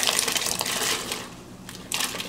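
Drained and rinsed canned precooked hominy is poured into a pot of boiling water, making a clattering, wet tumble of kernels that eases off and then gives a brief final splash.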